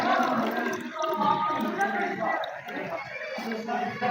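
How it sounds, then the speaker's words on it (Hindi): Water poured from a container into two drinking glasses for a homemade free-electricity experiment, a steady liquid splashing and filling sound running continuously beneath someone talking. "ऐसे पानी डाल लेना है दोनों गिलासों में।"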